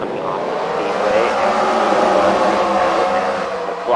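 A pace car pulls off the speedway at the Freedom Factory, its engine a steady, close, moderately loud hum with a smooth whir through the short span.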